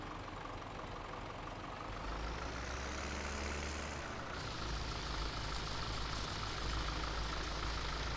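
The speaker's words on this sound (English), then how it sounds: "this tractor I don't think is going to pull this wheel rake" A tractor engine in Farming Simulator 17 drones steadily while pulling a wheel rake. The low, continuous mechanical rumble shifts in pitch partway through, with no voices.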